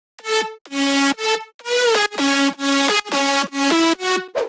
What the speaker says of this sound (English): With effects, it sounds like this.